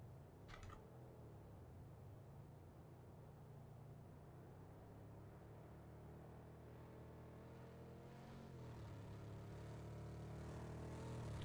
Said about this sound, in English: we hear the vehicle of Anonymous there